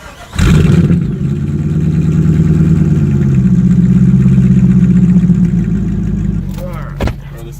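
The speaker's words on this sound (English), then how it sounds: "No, actually, get the cold start." Chevrolet Corvette engine cold-starting: a loud crank and catch, then a steady high idle rumble for several seconds, settling slightly before a brief blip near the end, with talk faintly in the background.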